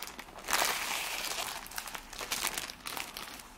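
Someone opens a package of cross-stitch supplies, a soft wool and acrylic counted-cross-stitch kit, making continuous close crinkling and crumpling of plastic wrap with a few louder rustling bursts.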